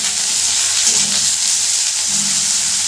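Potato and eggplant curry frying in hot oil in a home kitchen, a steady, close, loud sizzle that runs unbroken throughout with no voices.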